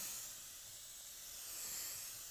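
Fabric protector sprayed from a can onto upholstery fabric in overlapping passes, giving a soft, steady aerosol hiss that swells slightly toward the end, close and fairly quiet.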